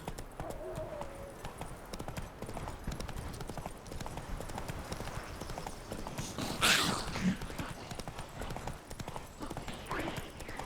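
Horse hooves clip-clopping in The Witcher 3, a steady rapid rhythmic trot on hard ground throughout, with a brief snort partway and voices talking over it.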